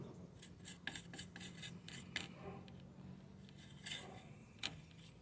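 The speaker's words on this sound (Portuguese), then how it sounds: "Filmando e mexendo aqui a cola" Glue being stirred by hand for repairing a leaking aluminium return tube on an Electrolux refrigerator, heard as faint, quiet scraping strokes repeating at irregular intervals over low background hum.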